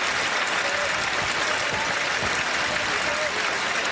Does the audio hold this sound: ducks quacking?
no